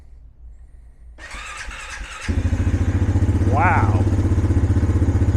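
A Honda 450 Foreman ATV with about 16,000 miles, choke applied, cranks briefly and then fires into a steady, close idle with an even low thrum. A short squeal comes partway through and a voice speaks over the running engine.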